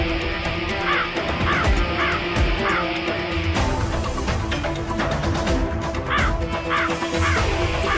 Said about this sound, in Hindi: ये कौवा कहां चला गया?